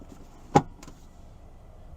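Rear seat being folded flat in a 2023 Hyundai Santa Fe SEL 2.5 AWD: one sharp close latch clunk followed by a fainter second click, then a quiet cabin.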